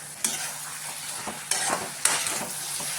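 Chopped tomato and green chillies sautéed and stirred in a pan for Kerala-style fish pollichathu masala: a continuous bright sizzle broken by several sharp spoon scrapes against the pan, close and clear, with no talking.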